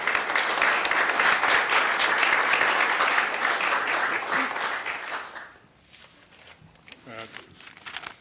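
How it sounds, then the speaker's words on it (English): A crowd at a swearing-in ceremony for a new police chief applauds the family in a full, sustained burst that tapers off into a quieter room with faint sounds. "Let's give them a round of applause if we can."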